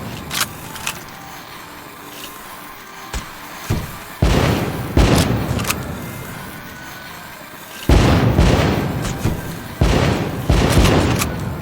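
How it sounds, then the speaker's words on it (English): Fireworks set off in a video game, a series of loud booming bursts with crackling tails, a couple of sharp early pops then heavy blasts at about four and eight seconds, continuous rumbling fallout between. "Light up those fireworks, sit back and enjoy the show."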